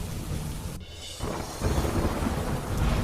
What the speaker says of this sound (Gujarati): કાળા ડિબાંગ વાદળો સાથે ખાબક્યો ધોધમાર વરસાદ